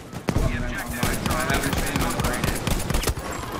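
Rapid gunfire from the Battlefield 5 video game on the Iwo Jima Outpost map, with dense, overlapping bursts of automatic shots and explosions running throughout under a layer of game noise, loud and continuous.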